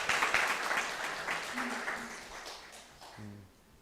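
A church congregation gives a round of applause for a small child, clapping fairly loud at first and gradually fading, with voices speaking over the dying claps near the end.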